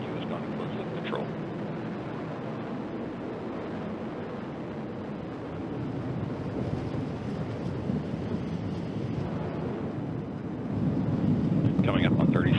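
An Atlas V rocket powered by an RD-180 engine, carrying SES satellites, roars steadily in flight as a low, rumbling broadband thunder that swells louder near the end, with a commentator's voice over it.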